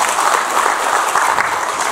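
Applause fills a public forum on natural disaster prevention, an audience clapping steadily and fairly close throughout.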